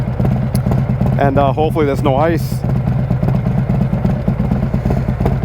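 A motorcycle engine droning steadily and loudly throughout a POV ride on a cold winter road with snow along the sides, someone talking over the engine noise.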